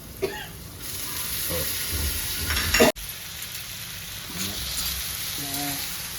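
Potatoes and poha fry in a pan with a continuous sizzle, interrupted by scraping stirs and a louder clatter partway through; a brief cough or voice sound appears near the start.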